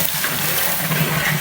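Half a liter of water pours steadily into a cooking pot while khichuri is prepared, a continuous close rushing gush with no pauses.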